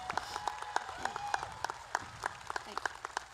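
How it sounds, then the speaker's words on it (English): Audience clapping honors the local honors graduates at a high school graduation ceremony, a thin scatter of distinct claps over a hushed, echoey hall, with a voice speaking faintly through part of it. "Let's give our local honors a round of applause."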